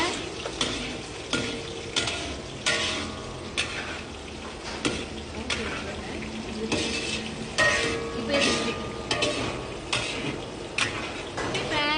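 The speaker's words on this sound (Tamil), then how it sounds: "கருதாளிப்பு, வெங்காயம், பட்டை மிளகா நல்லா வறுக்குங்க." Onion, cinnamon, chili and curry leaves sizzle and fry in a pan for drumstick-leaf sambar while a utensil stirs and scrapes with repeated clinks against the metal, close by and steady.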